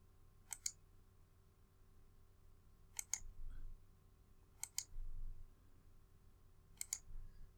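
A computer mouse clicks while a thrust feature is added in CAD software, making four sharp double clicks spaced a couple of seconds apart over a quiet background.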